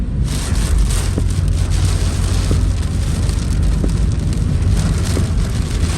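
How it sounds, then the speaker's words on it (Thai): Heavy rain from a summer storm drums steadily and loudly on a moving vehicle on a road, with strong wind, forming a dense continuous wash with faint low road rumble beneath and no talk. "ฝนตก โอ้ ตกแรงนะ"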